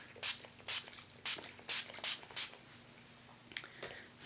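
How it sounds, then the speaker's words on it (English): Urban Decay All Nighter setting spray hisses out in a series of short, close pumps, about six quick sprays in a loose rhythm, then a couple more fainter bursts after a pause. "I'm going to take my Urban Decay All Nighter Setting Spray"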